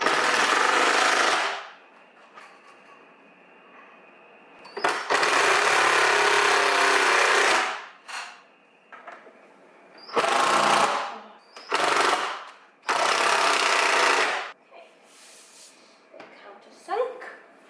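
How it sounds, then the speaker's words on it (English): Power drill countersinking screws into the top of an IKEA Kallax unit, with several loud whirring bursts of a few seconds each separated by quieter pauses, close by. "let's just see if I can countersink them a bit"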